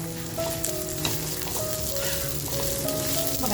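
White sesame seeds hit hot masala cooking for a mutton curry, giving a steady close crackling sizzle with fine popping spatter throughout, no talking.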